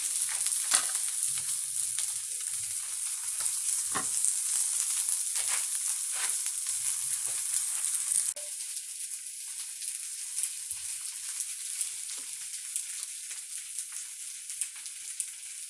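Hamburger patties sizzle in a hot pan with a constant bright hiss, broken by occasional scraping stir sounds in the first half. Nobody talks.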